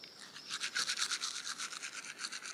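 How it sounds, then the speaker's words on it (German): A small outdoor toothbrush scrubs teeth in quick, rhythmic back-and-forth strokes, close and fairly quiet, with no talking. "Das ist immer noch meine Outdoor-Zahnbürste,"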